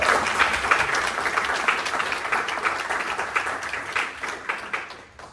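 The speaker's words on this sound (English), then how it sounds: "And we'll give her a round of applause." An audience applauds a guest artist at a trombone closing concert, with dense, steady clapping that fills the room and fades slightly at the end.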